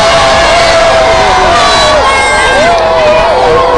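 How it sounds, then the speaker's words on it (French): A large crowd packed around a local official, making a loud, steady roar of close-up babble with shouts and cheering voices rising over it throughout. "spontanément entourés par une nombreuse foule"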